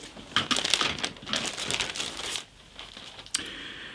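Close, crisp crinkling of a plastic parts bag from a model kit box being handled, in irregular bursts with brief pauses and a sharper rustle near the end.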